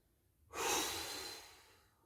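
One sharp breath drawn in during a butt and ab workout, a close, breathy rush that starts abruptly and tapers over about a second and a half, with no talk over it.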